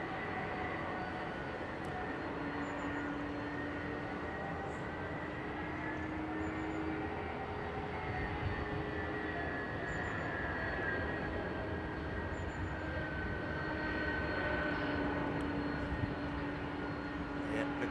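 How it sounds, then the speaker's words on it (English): The engines of a Boeing 767 jet with Pratt & Whitney engines give a steady, distant rumble and whine that runs without a break. "Oh, old school noise from those Pratts, man."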